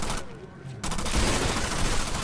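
A burst of rapid gunfire from the video game Drawn to Death lands a headshot, loud and dense after a brief lull, with game voices mixed in.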